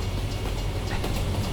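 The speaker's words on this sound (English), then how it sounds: "The train's coming from my left." A Union Pacific freight train hauling grain hoppers rumbles past in American Truck Simulator, a steady low rolling drone with faint rhythmic clatter, continuous and moderately loud.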